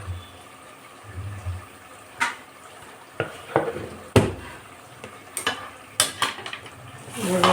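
A spoon stirs spice powders in a pan of chicken gravy, giving repeated scraping and clinking strokes against the pan over a low sizzle, with sharper knocks near the end.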